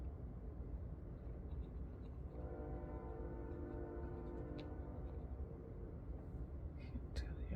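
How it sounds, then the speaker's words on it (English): A train passes outside, heard through open windows as a sustained horn-like harmonic tone that swells over a constant low rumble, faint and distant, with a few small clicks nearby. "Train, I got my windows open."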